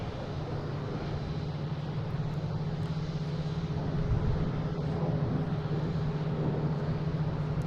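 A Delta airplane departing Boston Logan for LaGuardia gives a steady, droning jet engine roar that swells slightly toward the middle and holds without a break.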